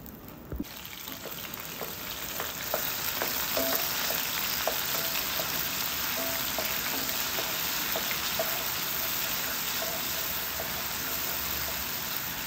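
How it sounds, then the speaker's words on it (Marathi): Plenty of garlic and ginger dropped into hot oil for a mutton dish, bursting into a loud, steady crackling sizzle that holds close and even for the whole stretch with faint scattered pops. "तेलामध्ये आपल्याला भरपूर लसूण अद्रक घालायचं आहे. लसूण अद्रकाचा कच्चेपणा जाईपर्यंत आपल्याला चांगलं भाजून घ्यायचं आहे."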